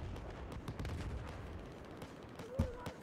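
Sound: gunfire in Battlefield video game

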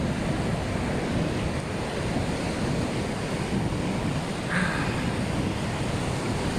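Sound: sea waves at the beach

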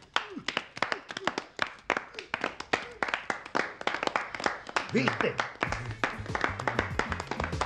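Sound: applause

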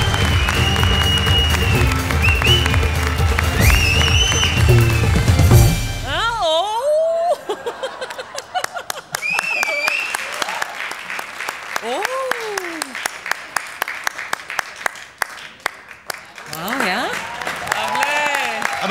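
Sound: loud studio audience applause

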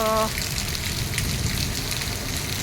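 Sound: summer rain falling

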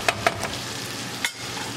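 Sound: stirring and frying aloo methi in a pan

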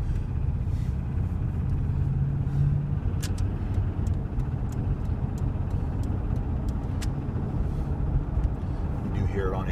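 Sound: Chevy 5.7 Vortec engine idling

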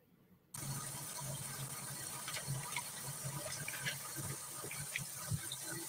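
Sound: shower water running

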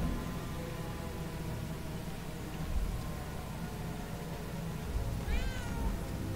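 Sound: cat meowing in the video game Murdered: Soul Suspect

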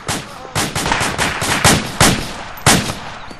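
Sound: gunfire in video game ARMA 2 Operation Arrowhead

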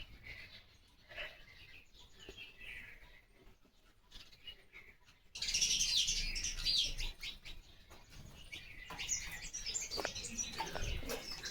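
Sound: house sparrows chirping in a courtyard

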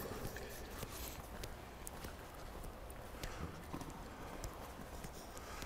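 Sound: horse hooves while being ridden in dressage training

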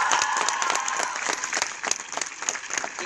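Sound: audience applause at film premiere

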